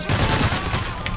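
Rapid automatic gunfire from a team heist shooter, a dense sustained burst of shots running steadily through the whole moment with a faint voice underneath.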